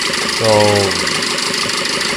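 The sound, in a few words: car engine idling with one fuel injector disconnected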